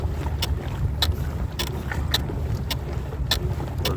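A small fishing boat runs across cold water, a steady low engine drone with wind buffeting the microphone and sharp splashes or slaps against the hull recurring every half second or so.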